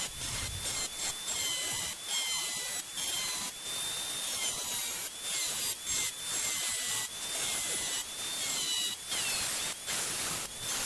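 A tool trims a circular opening in a DVR CCTV power supply case, making repeated close scraping strokes with thin squeaks in a steady rhythm and short pauses between cuts.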